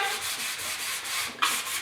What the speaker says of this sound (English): Just giving everything a light scuff with some 320 grit now